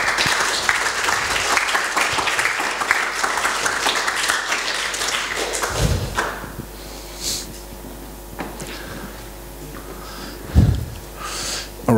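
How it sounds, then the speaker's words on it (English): Audience applause at a talk on building integrative care teams: a broad wash of clapping for the first several seconds that thins and fades out, leaving quieter room noise with a couple of thumps. "let's have a round of applause and you come up."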